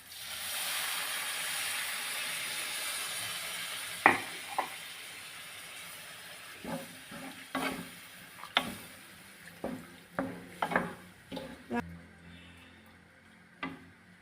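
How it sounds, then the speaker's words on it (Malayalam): Water poured into spice powder frying in a pan for fish curry hisses in a steady sizzle that fades, broken by scattered sharp pops and stirring clicks, close up with no talk. "ഇനി നമുക്ക് വെള്ളം ഒഴിച്ചു കൊടുക്കാം അതിനകത്ത് ആവശ്യമുള്ള"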